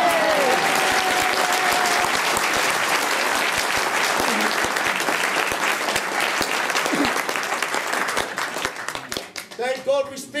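An audience applauds a Maori village performance in Rotorua with dense, loud, sustained clapping that thins out near the end as a voice begins to speak.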